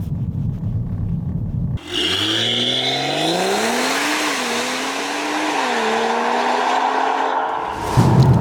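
A tuned stage 2 BMW M240i launches hard from near quiet, its engine climbing steeply through the revs with a brief shift dip before pulling again, loud and close from inside the car.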